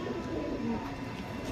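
A pair of Gulzar travel pigeons, male and female, coo softly in low, continuous murmurs close by, with no talking.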